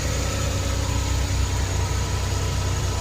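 A car engine idles steadily after its spark plugs and air filter have been replaced, a low continuous rumble with slight vibration running throughout, close and fairly loud with no voices.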